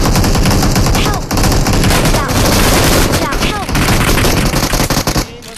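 Rapid, loud gunfire from BGMI, with shotgun blasts mixed into a dense stream of close shots that barely pauses, while a player talks underneath.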